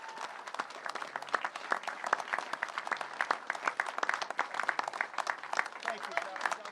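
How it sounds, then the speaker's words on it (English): A rally crowd in Grand Rapids, Michigan claps in a sharp, crackling burst of applause, with individual claps standing out close by and voices mixed in beneath. "give these people a big round of applause"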